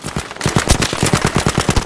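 Rapid automatic weapon fire in Battlefield V, a loud, close, evenly spaced stream of shots that barely pauses over a couple of seconds.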